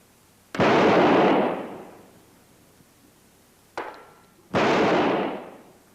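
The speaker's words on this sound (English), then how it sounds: "what's a 4th of July without fireworks?" Fourth of July firecrackers set off outdoors: two loud, sharp bangs a few seconds apart, each trailing off in a long echoing decay, with a smaller pop just before the second blast and no talking.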